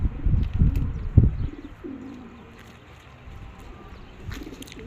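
Pigeons just released from their cage coo in low throaty bursts at close range, with brief wing flaps early on, then quieter stretches before a final soft coo.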